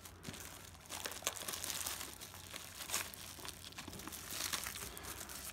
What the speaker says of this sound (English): I'll just break the packaging if I can